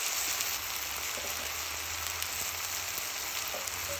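Onions sautéing in a pan for an Indian chicken curry with turmeric, coriander and cumin give off a steady, soft sizzle with a faint crackle, even and unbroken throughout.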